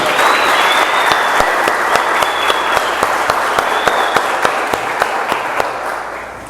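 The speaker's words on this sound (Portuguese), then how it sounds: "Vamos aplaudir ao Senhor pelos nossos visitantes?" A church congregation applauding visitors at a service, loud sustained clapping from a full crowd with sharper individual claps standing out, a few cheers or whistles rising through it.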